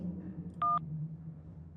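A single short telephone keypad tone beeps once in a video game scene, brief and clear over a low ambient hum.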